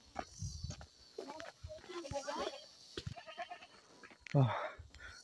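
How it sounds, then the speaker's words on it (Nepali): Goats bleat on a rural Nepali farm with kids and billy goats nearby, one loud close bleat near the end among scattered animal calls, with people talking through much of it. "तपाईँले देख्न सक्नुहुन्छ बाछा र बोका उता बाख्री"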